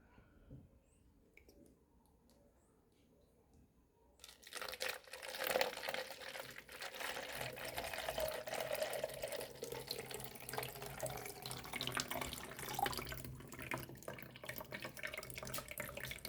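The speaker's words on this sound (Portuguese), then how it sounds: "Agora eu vou despejar a água que está misturada aqui, suja com areia, né?" Sandy, dirty water poured into a makeshift funnel filter, a steady close splashing trickle that begins after a few seconds of near silence and continues with faint drips and crinkling.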